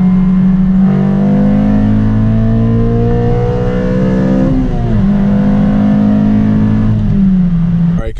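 A Honda Civic Si with a tuned ECU on a third-gear pull, its engine note loud and close as it climbs steadily under load, dips briefly midway, then rises again.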